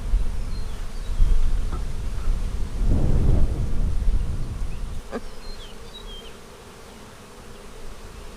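Honey bees buzz steadily around an open hive during a spring inspection of a split with solid brood, a continuous close insect drone with faint high whines of individual bees passing near.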